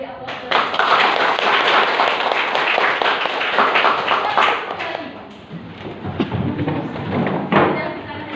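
A class applauding, with dense clapping for several seconds that fades and gives way to scattered taps, thumps and voices.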